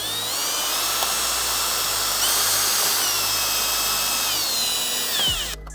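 Cordless power drill driving screws into a carbon fiber front bumper lip on a BMW F30 with an M2-style conversion bumper, a steady loud whine held for several seconds before cutting off abruptly, with no voices.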